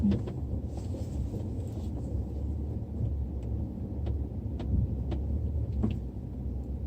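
A car climbs an unfamiliar hill road, its engine and road noise a steady low rumble throughout with faint interior clicks and ticks.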